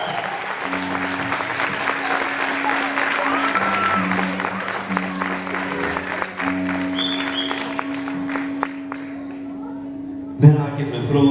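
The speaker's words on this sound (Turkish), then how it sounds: "Önder hocamıza bir alkış alır mı? Bravo!" An audience applauds a performer at a music show, sustained clapping with a sustained tonal musical backdrop and some speech mixed in, ending with a louder burst.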